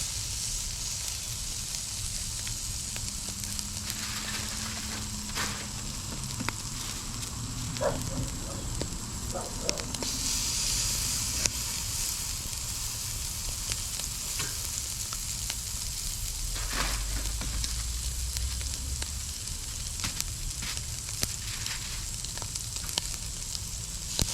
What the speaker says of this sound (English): I hope you can hear that sizzle.